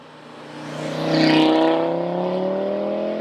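An Audi RS3 hatchback drives past, its engine rising from a low hum to a loud, rich drone and then holding a steady pitched tone as the car stays near.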